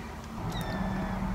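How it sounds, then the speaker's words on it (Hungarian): A house cat gives a short meow, a brief tonal cry rising over a noisy indoor background with low hum. "A cica is benne akar lenni a videóban."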